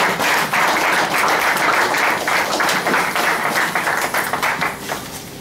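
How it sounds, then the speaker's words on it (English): A lecture-hall audience at a Nigerian Institute of Public Relations lecture series claps steadily in a dense, sustained round of applause that stays loud throughout and eases slightly toward the end. "So please give me a round of applause."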